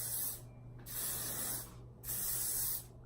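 A hair finishing spray from an aerosol can hisses in three quick bursts, each a short close hiss separated by brief pauses.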